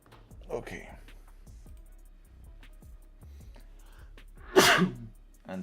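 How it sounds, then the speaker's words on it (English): A loud, sudden sneeze bursts out near the end, following a stretch of quiet clicking and light tapping sounds. "And sneeze at the same time."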